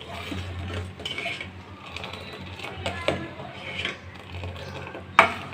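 A spoon stirs rice into milk in a pot while making phirni, giving soft repeated scraping and clinking strokes at a steady rhythm, close up, ending with a sharper knock against the pot.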